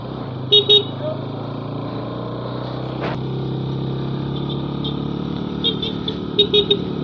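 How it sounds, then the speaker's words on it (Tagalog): Road traffic drones steadily on a ride from San Juan, Batangas to Daet, Camarines Norte, Philippines, while short vehicle horn toots sound a few times, near the start and again toward the end. "Dami bumubusina sa akin."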